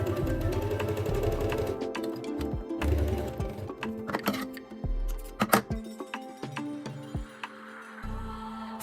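A sewing machine runs in short bursts while stitching close to the edge of fabric for a dress, with rapid ticking needle strokes between quiet pauses and some clicks and handling noises, close and fairly quiet.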